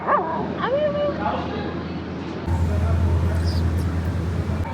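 Dogs at an animal shelter give high yips and whimpering whines up close, then a steady low hum joins partway through, with a person talking over the animal sounds.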